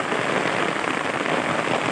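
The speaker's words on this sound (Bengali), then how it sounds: "এখন মুষলধারে বৃষ্টি পড়তেছে।" Dense, heavy rain hammers down without pause, a close, loud and even roar of countless drops.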